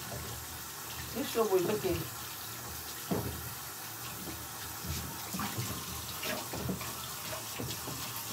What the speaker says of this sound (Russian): Я сейчас руки помою.